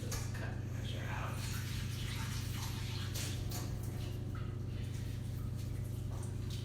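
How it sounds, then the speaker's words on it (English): Tap water runs steadily while a quarter-cup measuring cup is rinsed in a kitchen sink, a continuous close hiss with a low hum beneath. "I'm going to rinse this cup measure out."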